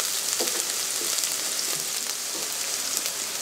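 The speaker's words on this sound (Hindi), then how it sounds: "प्याज को जस्ट हमें सोते करना है" Finely chopped onions sauté in hot oil in a pan, giving a continuous bright sizzle with faint soft stirring, close and steady throughout.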